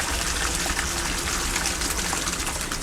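Water gushes steadily and loudly through a high banker sluice fed by a Hydroforce nozzle, a dense, unbroken rushing roar with no voices over it.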